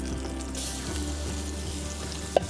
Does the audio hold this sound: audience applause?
no